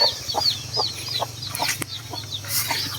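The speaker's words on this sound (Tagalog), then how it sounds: "may manok dun sa baba ang gala" Chickens cluck and chirp repeatedly outdoors, several birds nearby, with a steady low rumble underneath.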